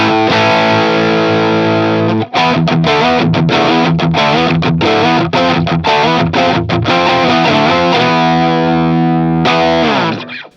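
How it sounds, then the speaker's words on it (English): Fender Telecaster driven through a Boss SD-1 Super Overdrive into a Vox AC15, playing a loud, gritty chordal riff with choppy muted stabs and a final ringing chord, close and continuous. "if I switch the pedal back on with the same settings that you heard the SG played with in the intro, it sounds like this"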